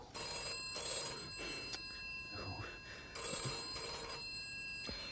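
A telephone bell rings in two bursts with a pause between them, while people talk quietly over and between the rings, in a 1981 British crime radio drama.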